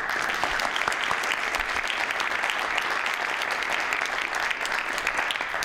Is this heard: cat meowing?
no